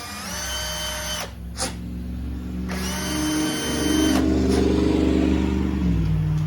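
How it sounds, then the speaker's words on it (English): A power drill fitted with a 3/16 bit whines steadily as it clears out the middle of an old brake line fitting on a Dodge Dakota, loud and close, with the pitch dipping and rising through two short pauses. "I got a drill with a 3/16 drill bit. I'm just going to clean out the middle of this old fitting."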